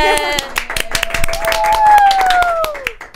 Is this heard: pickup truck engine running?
no